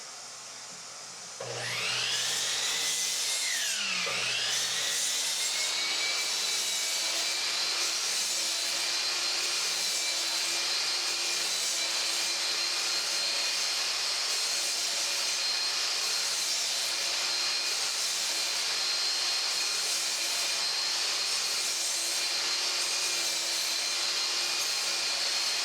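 A power saw cutting dados into 2x4 lumber for an outdoor chair spins up with a rising whine, dips briefly as it bites, then holds a loud, steady high-pitched cutting drone for more than twenty seconds with no talking.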